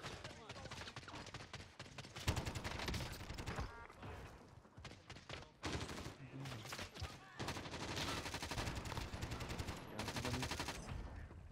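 Dense, continuous gunfire from Call of Duty Warzone, with rapid automatic bursts and overlapping shots running nearly the whole time at a loud, steady level, with voices of players talking over it.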